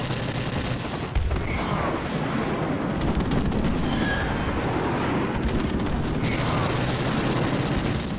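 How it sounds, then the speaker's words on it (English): Call of Duty: Modern Warfare Remastered battle with an airstrike: a dense, continuous wash of rumbling explosions and rapid gunfire, steady and loud throughout, with sharper bursts layered over the distant booming. "so I'm gonna put that airstrike going down up there"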